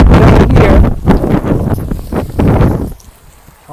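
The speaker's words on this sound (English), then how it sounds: "It's windy today, so I get occasionally sprayed." Strong gusts of wind buffet the microphone outdoors at Ollantaytambo in Peru's Sacred Valley, loud rumbling bursts that rise and fall over about three seconds and then drop to a quieter hush.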